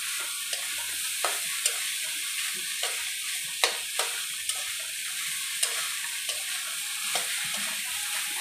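Cooked rice tossed with broken egg and spices in a pan, a steady soft sizzle throughout with sharp clicks of a spatula scraping and stirring at irregular intervals, close and moderately loud, no talking.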